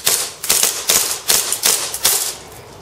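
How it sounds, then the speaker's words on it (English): An airsoft pistol fires six quick, sharp snapping shots at an even pace after a reload, close and loud with no talk. "firing again."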